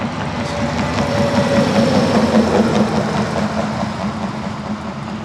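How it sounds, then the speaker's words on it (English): Heavy trucks idle nearby in Anchorage, a loud, steady low engine rumble with a faint droning tone that holds unchanged throughout, with no talking over it. "Noisy trucks."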